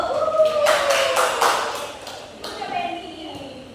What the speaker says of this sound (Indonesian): Tepuk tangan untuk Feby dulu.